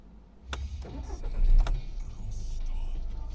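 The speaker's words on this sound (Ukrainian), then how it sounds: "Без проблем завелась машинка, ніяких чеків помилок немає" A 2009 Skoda Octavia A5 with a 1.6 MPI petrol engine starts up: a short starter crank, the engine catching, then a steady idle, with faint clicks nearby.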